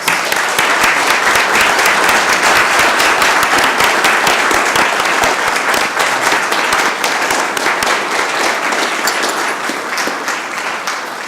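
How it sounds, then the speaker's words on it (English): Steady, dense applause from an audience at a city council meeting in Columbus, Georgia, sustained loudly for about eleven seconds and tapering slightly near the end. "Let's give them a round of applause, folks."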